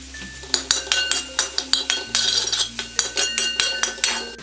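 Egg, vegetables and turmeric are stirred in a pan, giving a run of sharp, close clinks and scrapes of a utensil against the pan in a quick, irregular rhythm.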